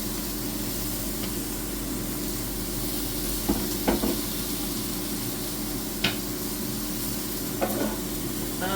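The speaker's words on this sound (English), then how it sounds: "the instructions say we're to stir fry these green beans for a couple of minutes" Green beans stir-fry in olive oil in a pan on a hob, a constant close hissing sizzle broken by a few light knocks and scrapes from stirring.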